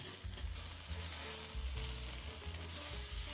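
Lemons and tomatoes blistering in a hot pan, a steady close sizzle and spatter over a low hum, continuous and fairly strong.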